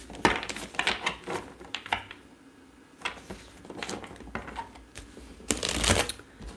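Tarot cards being shuffled by hand in repeated riffling bursts, close and fairly loud, with short pauses between the flurries.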